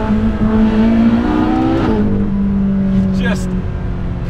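A Ferrari 458 Speciale or McLaren 720S downshifts on a mountain pass, a loud sustained engine note dropping in pitch through gear changes, echoing off rock walls, with someone talking over it.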